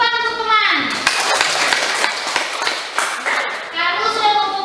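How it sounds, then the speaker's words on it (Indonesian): Children in a classroom clap their hands together in a dense, steady burst lasting several seconds, with a voice heard briefly before and after the clapping. "Tepuk tangan untuk teman."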